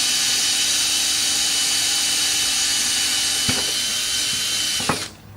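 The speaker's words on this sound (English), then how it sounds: "what we use is a 3/16 inch bit, and we drill through" A power drill with a 3/16 inch bit whines steadily at high speed boring a pilot hole through wood, with a couple of brief clunks near the end as it stops and winds down.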